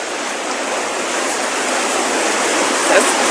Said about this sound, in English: you can see how the river is full up.